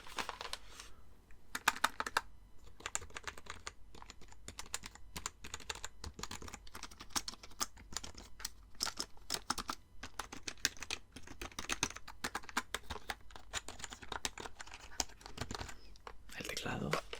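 Rapid, irregular typing on a computer keyboard during a quiet ASMR medical roleplay, the clicks close and continuous for the whole stretch, with faint soft rustling and no clear talk.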